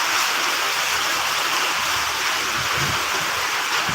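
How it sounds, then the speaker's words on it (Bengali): Loud, steady roaring wind with a constant hiss, like a storm gusting continuously close by, during a rainstorm that has flooded the road. "এখন আবার তুফান শুরু হইতেছে, আবার বাতাস শুরু হইতেছে"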